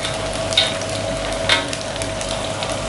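Leftover overnight rice frying in a pan until dry and golden brown, a steady close sizzle with a couple of sharp scraping stirs standing out above it.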